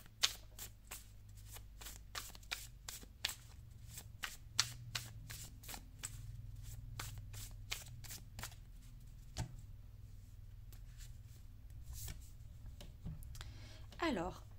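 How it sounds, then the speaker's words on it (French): A deck of numerology oracle cards is shuffled by hand, a long run of quick crisp riffling clicks, close and fairly quiet, with soft speech underneath. "je vais vous tirer une carte synthèse avec l'oracle de la numérologie"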